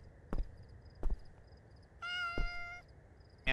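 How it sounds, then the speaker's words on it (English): In the Mayonaka 10 Chome video game, a cat lets out one clear, drawn-out meow. A few soft thumps come before it in a quiet scene, and another cry starts at the very end. "Meow, meow, meow. Kitty cat."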